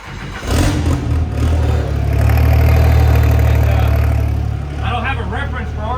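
Pro street truck engine revving high, holding a loud steady roar, then dropping quickly back toward idle, with people talking over the tail end.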